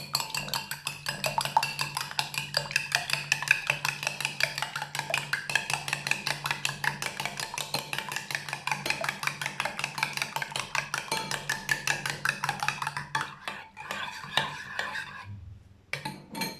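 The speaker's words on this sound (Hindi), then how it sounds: "अंडों को अच्छे तरीके से फेंट लेंगे।" Eggs beaten briskly in a bowl for an omelette, a fast, even run of sharp utensil clicks against the bowl that continues steadily, then slows and stops near the end.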